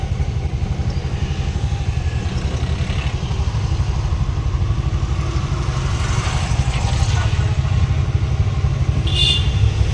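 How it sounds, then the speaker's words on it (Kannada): An auto rickshaw's small engine chugs in first gear as it pulls away on a Bangalore road, a loud, close, rhythmic clattering putter that stays steady throughout with faint traffic behind. "ಗಾಡಿ ಕ್ಲಚ್ ಇಟ್ಕೊಂಡು ಫಸ್ಟ್ ಗೇರ್ ಹಾಕಬೇಕು ನೀವು ನೋಡ್ತಾ ಇದ್ದೀರಾ ಗಾಡಿ ಮೂವ್ ಆಗ್ತೈತೆ"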